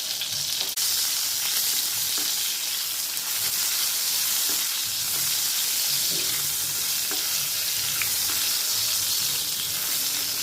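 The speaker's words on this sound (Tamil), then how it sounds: "கத்திரிக்காயோட கொஞ்சம் உப்பு போட்டுடுங்க. அப்போ கொஞ்சம் ஃபாஸ்ட்டாக வதங்கி வரும்." Salted eggplant sautés in a hot pan, giving a continuous bright sizzle and hiss with faint stirring scrapes throughout.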